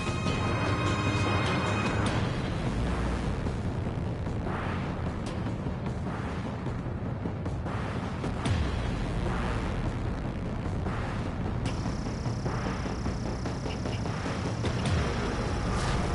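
Explosions of harbor facilities and an aircraft carrier in the Ace Combat Skies Unknown combat flight game, a dense, continuous rumbling roar of blasts with repeated bursts throughout, loud and sustained.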